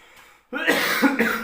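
A single harsh, close cough, loud and abrupt after a quiet moment, with a rough throaty edge that trails into a brief throat-clearing rasp.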